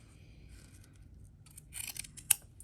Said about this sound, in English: now we're going to trim the seam allowance down